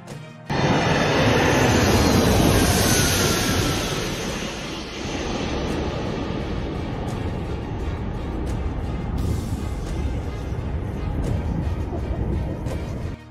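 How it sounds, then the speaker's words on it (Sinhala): A giant passenger airliner flies overhead through a cloudy sky, its engines a loud, steady broadband roar that swells early and then holds at a slightly lower level, with no voices. "එම මගී ප්‍රවාහන යෝධ ගුවන් යානාව පියාසර කරේ බලාකුළු වලින් පිරුණු අහස දෙබෑ කරගෙනයි"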